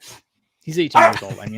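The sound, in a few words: dog barking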